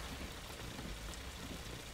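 Steady, dense rain falls in the video game Jalopy, a continuous hiss of drops pattering on a surface with no break.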